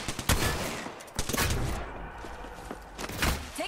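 Gunfire in the video game Apex Legends, sharp shots rattling in quick bursts with short gaps between them, moderately loud and fairly close, with no talk over it.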